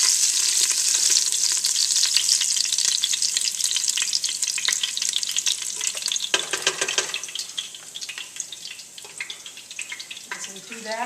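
Garlic sizzles loudly in a hot pan for an albondiga meatball soup, a dense crackling hiss with scattered pops that eases off partway through, faint voice and running-water sounds beneath.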